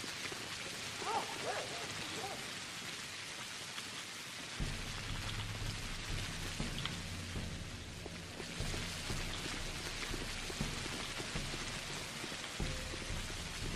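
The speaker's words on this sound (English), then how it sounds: "Why is the rain black as well?" Steady rain pours down inside a video game with black-coloured rain, a dense continuous hiss with a deeper rumbling layer joining partway through, close and even throughout with no talk.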